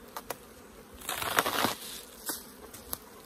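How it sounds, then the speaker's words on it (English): Honey bees buzz around an opened, strong colony, with several brief crackling bursts and a swelling hum near the middle, fairly faint and close. "Nice lot of bees."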